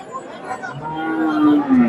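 A dairy cow at a busy cattle market lets out a rising moo. Crowd chatter murmurs in the background through the short call.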